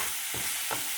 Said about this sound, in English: now I'm gonna fry some onion and carrots